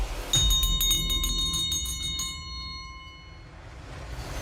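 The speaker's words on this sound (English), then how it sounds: "I brought a bell here that was a school teacher's bell" An old school teacher's hand bell rings in a rapid run of bright metallic strokes, then its clear tone lingers and fades into room noise, heard alone and close.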